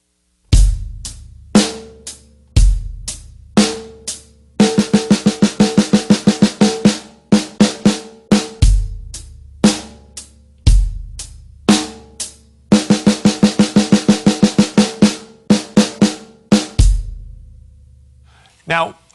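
A drum kit plays a repeating rhythm that mixes 16th-note triplets with straight 16th notes, loud and close, with punchy low kick hits and rapid bright snare or tom bursts alternating in regular phrases with brief gaps.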